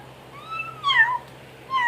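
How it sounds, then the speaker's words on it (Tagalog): A house cat meows indoors, a few close, clear meows in a quick run and then one more after a short pause, with no talking over them. "Oh, ingaw ng ingaw."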